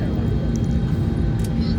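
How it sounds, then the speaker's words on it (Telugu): Inside a Vistara airliner cabin as the plane begins slowly rolling, a steady low engine roar and rumble fills the space continuously, loud and even, with voices partly under it. "మన ఫ్లైట్ ఇప్పుడే మెల్లిమెల్లిగా స్టార్ట్ అయింది"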